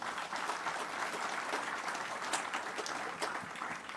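An audience applauds at a Christmas lunch at a military base camp, steady moderate clapping sustained evenly throughout, heard alone without speech.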